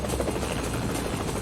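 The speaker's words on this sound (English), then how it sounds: "See our helicopter up there?" A police helicopter flying overhead in Philadelphia, its rotor chopping steadily and loudly across the whole stretch with no voices.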